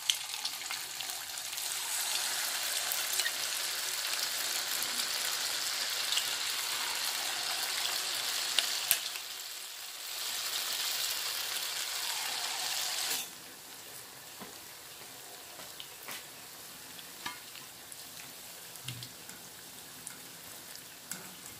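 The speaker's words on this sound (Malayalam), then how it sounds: "ഇനി നമുക്കിത് ഫ്രൈ ചെയ്തെടുക്കാം" Pakkavada batter fries in hot oil over a medium flame, a loud steady sizzle that briefly dips, surges again, then drops to a quieter crackle with scattered pops and stirring sounds, no talk.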